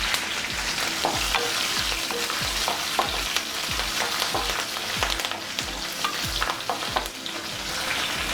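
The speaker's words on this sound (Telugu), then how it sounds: "ఆవాలు, పచ్చిమిరపకాయలు, ఎండుమిరపకాయలు మనం లో ఫ్లేమ్లో పెట్టుకుని ఫ్రై చేసుకుందాం." Mustard seeds, green chillies and dry chillies frying on a low flame for a raw jackfruit curry: a constant sizzle broken by rapid rhythmic scraping of a spoon in the pan and scattered crackling pops.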